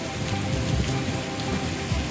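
Heavy rain pours down outside an office on Ferozpur Road in Lahore, a dense, steady hiss of drops spattering on surfaces, close and continuous with no voices.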